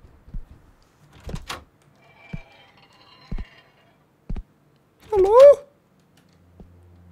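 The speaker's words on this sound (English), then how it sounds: "Who's knocking at my door at this hour?" Knocking at a door in the PS1-style horror game Death Tapes: several sharp, isolated thuds spaced a second or so apart, with near-silence between them, then a brief higher wavering sound.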